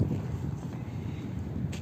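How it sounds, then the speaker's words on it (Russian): Wind buffets the microphone on the grounds of the Minor mosque in Tashkent, Uzbekistan, a continuous low rumbling roar from start to finish with no voices. "Тут такой ветер прям."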